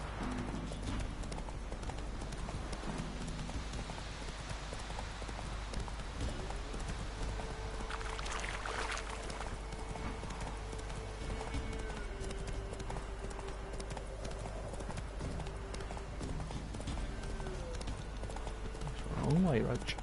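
Horse hooves galloping in The Witcher 3: Wild Hunt, a steady rapid clip-clop across Velen with ambient game sound and someone talking over it throughout.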